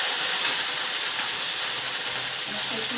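Chicken thighs sizzling loudly in a hot wok, a steady dense hiss of frying that holds evenly throughout with no one speaking.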